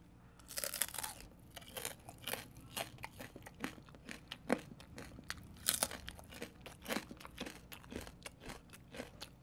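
Crispy oven-roasted pork belly skin being bitten and chewed up close, with repeated sharp crunches in an irregular rhythm, quiet overall and without talk.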